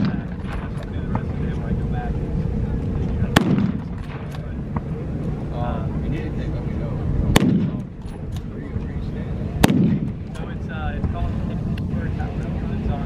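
Historic military weapon fired at an MVPA winter rally of vintage military vehicles outdoors: three loud sharp blasts spaced a few seconds apart over steady background crowd noise and murmured talk.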